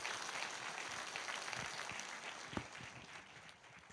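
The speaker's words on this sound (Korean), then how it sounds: "큰 박수를 함께 해주시면 정말 감사하겠습니다" Audience applause at a political report concert, a dense continuous clapping crowd with a few sharper claps standing out, fading slightly toward the end.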